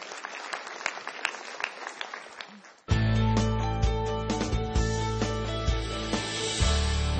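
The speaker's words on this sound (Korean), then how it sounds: "따뜻한 박수 다시 한번 부탁드립니다" An audience at an education conference claps in a scattered, moderate patter, then a much louder, sustained tonal sound with steady pitched lines takes over abruptly partway through.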